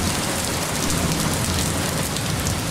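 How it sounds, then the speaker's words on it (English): Steady rain pours down outdoors, a dense continuous hiss of drops on surfaces with a faint low rumble beneath, loud and unbroken throughout, no voices. "It started to rain"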